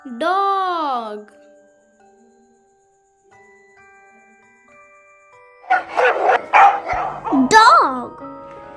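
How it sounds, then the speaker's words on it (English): A voice speaks at the start, and after a quiet stretch a dog barks several times in a quick, loud, close cluster, with a yelping tail at the end. "D for dog."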